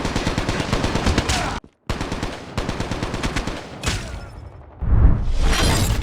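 ASMO 10 gun firing in COD Mobile: fast, close, loud bursts of automatic fire broken by a brief silent cut, with sharp impact and shattering sounds mixed in and no talking.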